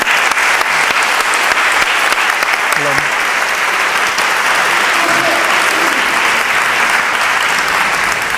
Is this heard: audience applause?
yes